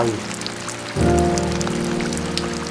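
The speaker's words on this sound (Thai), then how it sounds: "เกิดฝนตกดับไฟ" Rain patters steadily on a surface, a dense wash of droplets mixed with sustained musical tones that swell partway through.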